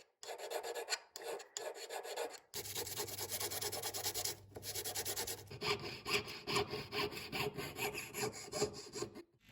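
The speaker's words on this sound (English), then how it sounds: "file the surplus down and remove the tool marks with a sandpaper" A hand file rasps back and forth across a gold ring shank with sandpaper smoothing the metal, producing steady, close scraping strokes with brief pauses between passes.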